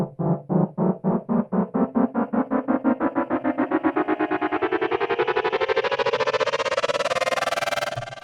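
A synth FX riser built in Logic Pro climbs two octaves in audible steps, starting as a distorted pulsing tone that speeds into a dense, brightening buzz before cutting off.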